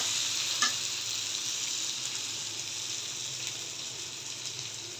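Taro pieces sautéing with spices in a pan, a continuous close hiss of sizzling oil with faint stirring, steady and even throughout, no voices.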